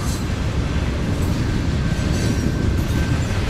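A train rolls across the Nine Arch Bridge through hilly country, a loud continuous rumble and roar of wheels and carriages with a faint steady whine running through it.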